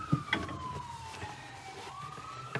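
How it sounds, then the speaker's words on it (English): A distant fire truck siren in town wails through a slow falling and rising sweep, faint against quiet background noise, with a couple of soft knocks nearby. "it sounds like there's a fire truck in town heading out."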